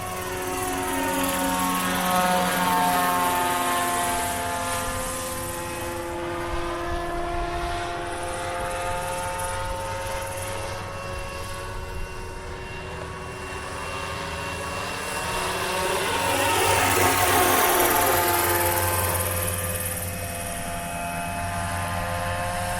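A Roban MD-500E 800-size radio-controlled scale helicopter's whining rotor and engine drone continuously, pitch wavering as it moves, growing louder as it passes nearer, then easing off.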